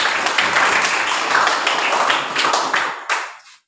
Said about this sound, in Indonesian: Oke, tepuk tangan buat Imran